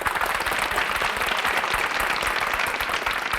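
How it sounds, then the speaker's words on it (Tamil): Continuous dense clapping from an audience for a student contestant at a Thirukkural speaking competition, steady and fairly loud throughout. "அப்ப அவருக்கு நமக்கு எவ்வளவு மன நிறைவா கைத்தட்டல் கொடுக்கணும்"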